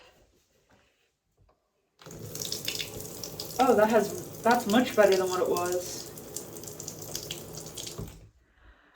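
Water runs from household taps as the plumbing refills in a cottage in Ireland, a steady hiss of flow with a toilet and bath filling, starting abruptly and continuing near and fairly loud while a person speaks over it.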